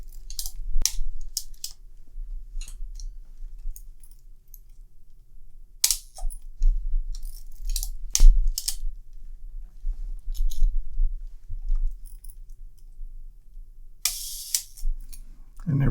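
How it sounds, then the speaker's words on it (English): A series of sharp mechanical clicks and snaps, each a brief shutter release of a Rollei 35 camera firing slow speeds from 1/2 to 1/15, spaced irregularly over a low background hum, close up. "Let's just exercise all the shutter speeds from 1/2 to 1/15."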